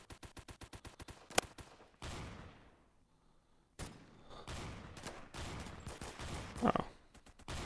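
Bursts of automatic gunfire from pre-firing in a shooter video game crackle close and sharp, with a rapid volley, a brief lull, then further irregular shot bursts.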